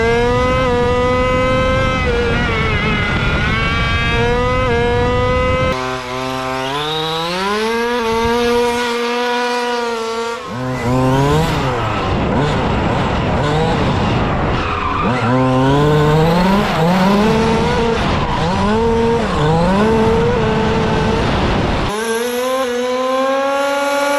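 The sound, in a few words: petrol RC car engine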